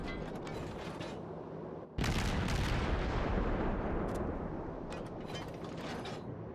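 Destroyer naval gunfire from the USS Benson in the World of Warships video game: a heavy boom bursts in after a steady rumbling din, followed by a loud, sustained roar of battle noise that slowly eases.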